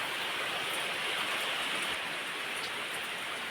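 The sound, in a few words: rain falling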